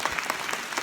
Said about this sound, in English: let's give Andrew a round of applause